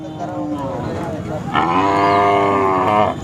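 A Khillar cow lets out a loud, drawn-out moo close by at the Sangola cattle market, rising partway through, over steady background noise.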